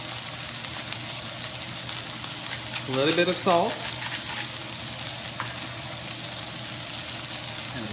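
Burger patty and vegetables frying on a griddle, a steady broadband sizzle throughout, with a voice speaking briefly partway through.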